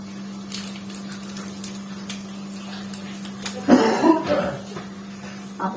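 A few sharp coughs break out near the end over a steady low hum, preceded by faint knocks and clicks.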